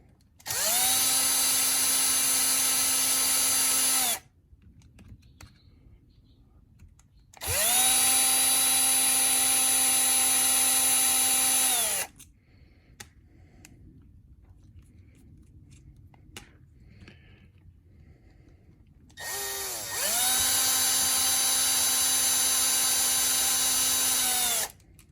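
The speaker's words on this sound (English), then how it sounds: "I'm going to cheat and use my drill" A power drill runs in three long, steady high-pitched whirs separated by quiet pauses, fitting a drill bit during a locker installation on a Cen F450.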